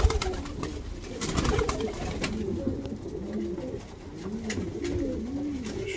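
Small pigeons in a coop coo repeatedly, a steady series of low rolling coos from several birds close by, with faint background noise and occasional soft clatter.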